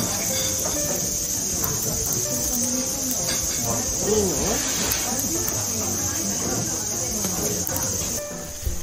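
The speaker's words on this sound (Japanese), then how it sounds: "でもお肉が焼ける音よりセミの声の方が大きくて少し聞き取りにくい" Lamb for Genghis Khan barbecue sizzles over a charcoal grill at a restaurant in Hokkaido in summer. Loud, constant cicada song rings above the crackling hiss of the meat, and a voice briefly speaks nearby.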